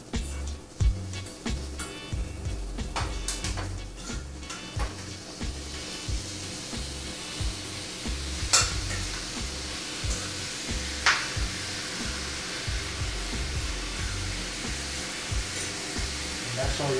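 Seasoned chicken for chicken yaki stirred in a hot pan: a steady sizzle with occasional scraping clicks, running under a repeating thumping backing beat.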